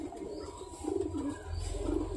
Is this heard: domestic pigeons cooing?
yes